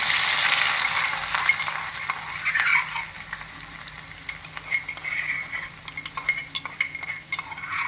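Green chillies and garlic spluttering in hot oil in a pan for a Rayalaseema-style uggani, a continuous crackling sizzle with scattered sharp pops and a few clinks of a stirring spoon, close and fairly loud with no talking.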